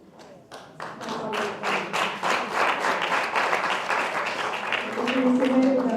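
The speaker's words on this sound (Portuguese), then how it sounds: "Another round of applause, please." Audience applause at a ceremony marking Angola's 50th independence anniversary: sustained clapping from a crowd that swells to a dense roar and holds, with a voice briefly over it near the end.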